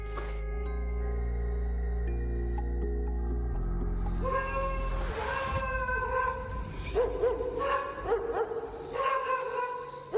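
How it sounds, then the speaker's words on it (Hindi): Street dogs bark and howl in an urban lane, their cries rising over a droning musical background and growing more insistent toward the end. "गली के कुत्तों ने भी परेशान करके रखा हुआ है।"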